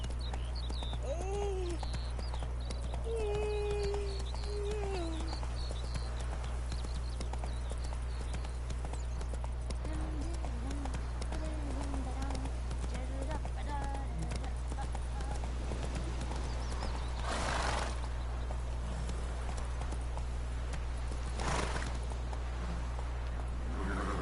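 Horse Roach from the Witcher 3 video game clip-clops along in a steady galloping rhythm, hooves drumming continuously at close range beneath a constant low hum, with a brief whinny and a voice over it.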